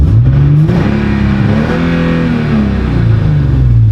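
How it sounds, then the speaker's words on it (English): A Nissan 350Z or Infiniti G35-family V6 with an Uprev tune is revved hard past 4000 rpm, the engine note climbing and falling in a loud, close sweep with no talk. "The first thing I always do is rev it past 4K."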